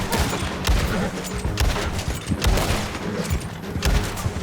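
Gunfire in the online western game Red Dead Online comes as dense, repeated booming shots and thuds over a busy, loud game soundscape, with no break.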